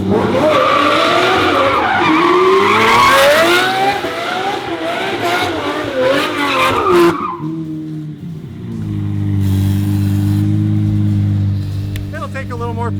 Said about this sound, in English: I've never been in a car that does a donut